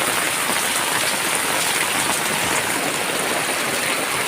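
Heavy rain pours steadily on a street in a loud, dense, unbroken hiss that fills the whole stretch without pause.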